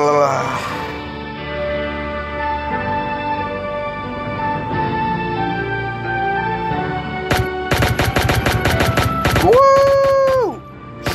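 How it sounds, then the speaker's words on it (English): Gunfire in the video game Pixel Gun 3D, rapid bursts of electronic shots over a tonal game soundtrack, followed by a rising synthetic tone, with some talking in the background. "Shoot the guns."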